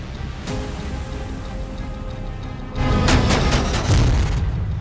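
A B61-12 nuclear bomb test explosion at the Nevada site, heard as a deep rumbling boom that swells into a louder, harsher burst partway through and then stays heavy.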